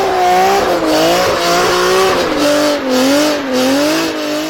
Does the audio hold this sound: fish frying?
no